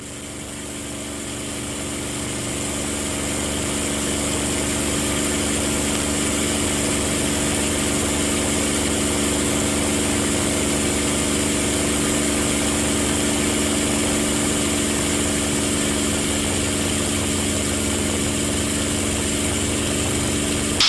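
Engine of a TF-51 propeller aircraft held at climb power, a steady loud droning roar with strong tonal hum that swells in over the first few seconds and then holds evenly, with no voices heard.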